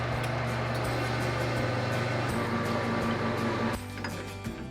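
A lathe cuts down the shank of a rifle barrel, making a loud continuous mechanical whir with steady motor hum and tonal machining whine that drops off slightly near the end, heard close with no talk.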